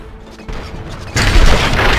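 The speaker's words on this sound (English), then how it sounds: "Gunshots?" Gunfire erupts in the RoboCop: Rogue City video game, loud booming shots that build into a dense, crashing volley with mechanical clatter.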